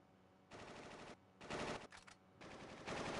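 Bursts of gunfire in the video game Final Fantasy VIII, several loud broadband volleys in quick succession with short gaps between them, with no talk over it.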